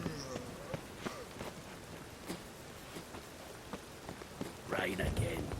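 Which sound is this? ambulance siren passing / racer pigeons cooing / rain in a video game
rain in a video game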